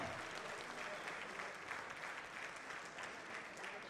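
Sustained audience applause at a film trailer launch event, cheering the music directors; a dense, even wash of many hands clapping steadily throughout, with no break.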